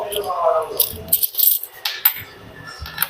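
A handful of loose coins jingling and rattling in a hand, with bright metallic clatter bursts over about three seconds and a voice talking faintly underneath.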